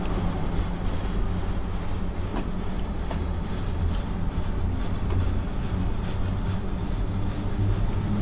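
A train running on the Arosa line in Train Sim World 2 gives a steady, continuous rumble and rolling rail noise throughout, with faint clicks over the track and no voices.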